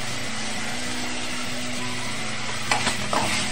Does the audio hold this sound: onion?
yes